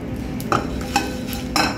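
Spices heating in a pan for Amritsari chole, stirred with a utensil: a steady low sizzle with a few distinct scraping clinks of metal against the pan, close and moderately loud, no voices.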